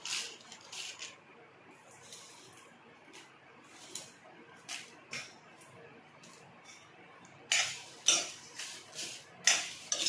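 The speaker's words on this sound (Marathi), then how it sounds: "छान असे लाल भाजून घ्यायचे धने, मस्त झाले।" Coriander seeds dry-roast in a pan until red, giving sparse, quiet crackles and scraping clicks that grow sharper and more frequent toward the end, with no voices.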